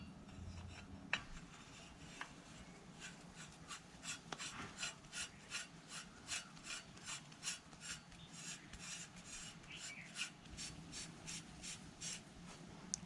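Faint rhythmic rasping scrapes as a coilover is threaded onto the lower mount of a shock absorber, a quiet, close run of short metallic grinding strokes repeating steadily, with no talking.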